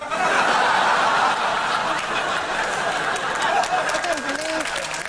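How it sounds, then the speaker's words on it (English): A TV studio audience applauds and laughs together, a steady wash of clapping with chuckles scattered through it, continuing for several seconds. "Don't applaud that"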